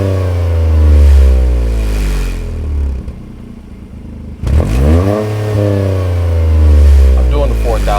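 Toyota GR Corolla with an MST Performance downpipe revving twice to about 4,000 RPM, each loud rise holding then dropping back, a quieter idle gap between the two close-up exhaust pulls.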